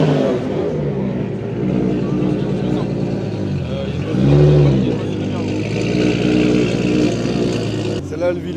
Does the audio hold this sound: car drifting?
yes